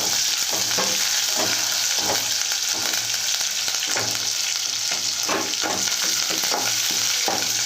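Sizzling oil tempering for a dal made with curry leaves and two kinds of leafy greens, a steady bright hiss with repeated scraping stir strokes throughout, loud and close with no talking.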